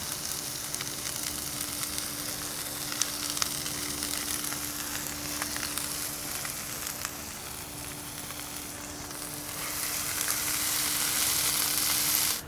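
Food sizzling on a flat-top griddle, seasoned with hickory smoked grilling salt, a continuous crackling hiss heard up close that swells louder toward the end; no one talks over it.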